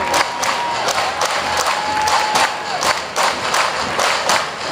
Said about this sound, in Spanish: Fuerte el aplauso para recibir a Cofradía de San Baltasar.